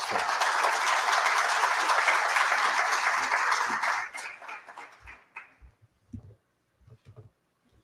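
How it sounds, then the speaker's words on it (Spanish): Audience applause at a Colombian tourism outlook conference, dense and steady clapping for several seconds that quickly thins into scattered claps and then fades out. "Un aplauso."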